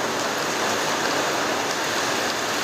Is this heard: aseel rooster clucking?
no